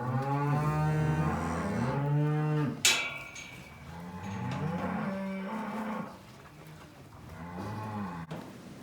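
A cattle herd lows in a farm alleyway, with several long, loud moos from cows close by, overlapping and repeating throughout, along with a sharp knock and some shuffling between calls.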